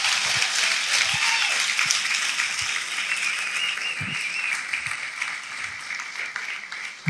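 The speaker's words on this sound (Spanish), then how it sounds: "Si le va a dar el aplauso al Señor, déselo fuerte" A church congregation applauds in a moderate, even wash of clapping that lasts about seven seconds, with occasional low thumps beneath it.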